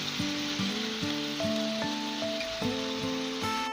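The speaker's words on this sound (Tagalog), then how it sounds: "check nyo po pagluto na po yung mga ginisang karne, liver, puso at saka spleen" Pork, liver, heart and spleen sautéing for Ilocano igado, giving a continuous even sizzle that sits under a melodic music track.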